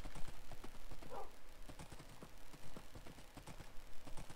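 Horse hooves clip-clopping steadily while riding in Minecraft 1.18, a quiet, even rhythm of light knocks repeating across the whole stretch.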